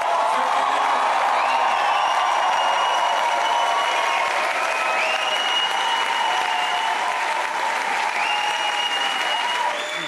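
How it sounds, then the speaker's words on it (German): Crowd applause at the ÖVP election victory party in Kursalon Hübner, Vienna, 2017: sustained, dense clapping from a large audience filling the hall, with a few whoops and faint voices mixed in. "Ich darf euch um einen großen Applaus bitten"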